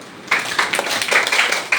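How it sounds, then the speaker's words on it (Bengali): Classroom of children clapping hands together, a burst of uneven claps from several pupils starting after a brief quiet moment and continuing steadily, fairly close and loud. "থ্যাংক ইউ, হাততালি দাও।"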